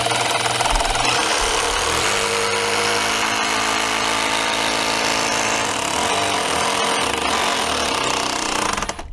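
A Milwaukee Surge hydraulic impact driver runs in one long, steady hammering burst, loud and close, driving fasteners for stair runners, cutting off near the end.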